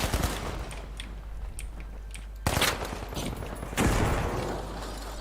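Bursts of gunfire in the video game The Finals, with scattered shots followed by two sharp volleys that ring out and trail off, loud and close against the game's ambience.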